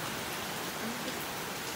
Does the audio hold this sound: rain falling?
yes